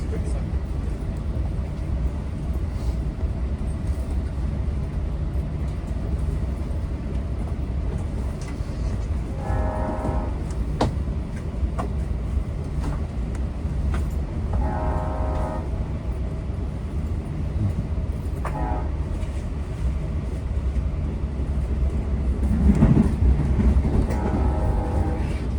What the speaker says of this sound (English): Well, the train passing is 73, a scoot from Patchogue to Babylon.